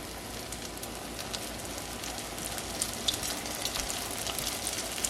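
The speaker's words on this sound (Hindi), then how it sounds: "चले अब टाइम आ गया फ्राई करने का, ये सब बन गए यहाँ पे, अब इनको फ्राई कर लेते हैं।" Homemade spring rolls frying in hot oil on high heat, a steady dense sizzle and crackle running throughout with no talk.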